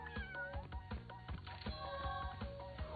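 A tiger character in the Crash Bandicoot N. Sane Trilogy video game lets out a cat-like meow. It is mixed into steady, rhythmic in-game music with percussive beats.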